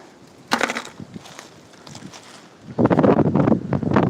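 Gusty wind buffeting a microphone outdoors during geode collecting, low rumbling blasts with a strong surge near the end, mixed with scattered handling knocks and rustle.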